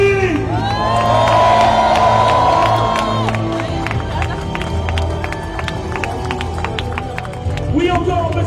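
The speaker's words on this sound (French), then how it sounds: "On va crier bien fort. 3, 2, 1, maximum de bruit." A crowd of marathon runners gathered before the start of a scenic outdoor race shouts and cheers loudly together, a sustained roar of whoops that swells and then fades, with voices and scattered claps continuing underneath.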